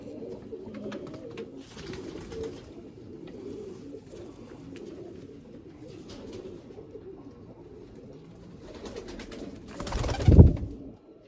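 Soft, low coos from white pigeons in a loft murmur continuously at close range, with a louder flutter or bump near the end.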